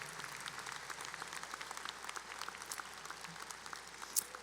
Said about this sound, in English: would you give Stephanie a round of applause?